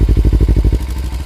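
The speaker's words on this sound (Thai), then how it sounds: "อยากให้ฟังเสียงเครื่องยนต์ ว่ามันเนียนขนาดไหน" A 2016 Nissan Z300 engine with a timing belt chugs in a fast, even rhythm up close, then the pulsing loosens and fades toward a softer, irregular rumble.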